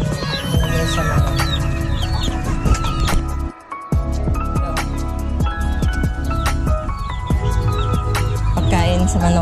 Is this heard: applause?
no